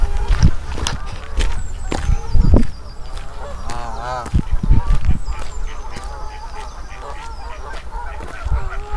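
Canada geese honk repeatedly at a wildlife centre, with loud, close calls overlapping and coming in uneven bursts throughout.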